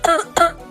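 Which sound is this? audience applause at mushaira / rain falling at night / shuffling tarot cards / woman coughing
woman coughing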